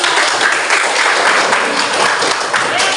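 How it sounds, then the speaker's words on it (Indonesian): Steady applause for a student group during a classroom presentation session, dense and continuous at an even level throughout. "Kembali tepuk tangan untuk kelompok."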